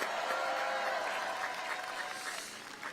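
A crowd at an outdoor presidential campaign rally in Pyeongtaek and Osan gives steady, fairly distant applause that holds as an even wash of clapping for a few seconds.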